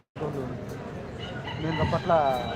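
Country chickens for sale at a roadside market in Saudi Arabia, with fowl clucking and crowing close by, rising toward the end, while people talk over the birds.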